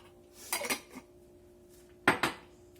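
Pots or utensils clink and scrape in two short bursts while herbes de Provence, poultry seasoning and olive oil are mixed together for a turkey roasted in an electric Nesco roaster oven.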